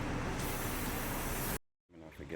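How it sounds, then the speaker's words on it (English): Aerosol brake cleaner hisses in a loud, steady spray onto front car brakes during a pad and rotor replacement, cutting off abruptly, then a brief softer rustle follows. "Spray it down with some brake cleaner."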